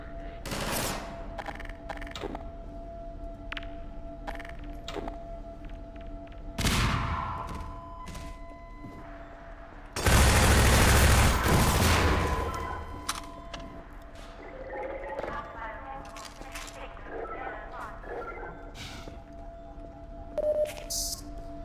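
Turret gunfire in Half-Life 2, sharp bursts and rapid volleys of shots with one long heavy barrage in the middle, mixed with other game noises and brief voices.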